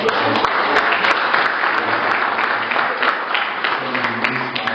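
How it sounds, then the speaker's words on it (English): A studio audience at a talk show taping gives a sustained round of applause, steady and fairly loud, with many hands clapping at once throughout. "So I want to just give a round of applause."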